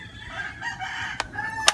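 Chickens cluck and a rooster crows close by in a backyard at a house, with sharp bursts of fowl calls cutting through the noise.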